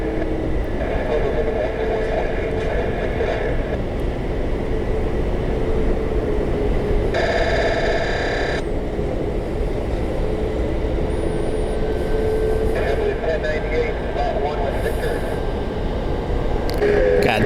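A light rail train rolls past near Orlando International Airport, a steady close rumble with a brief bright screech midway, under people talking and distant aircraft noise.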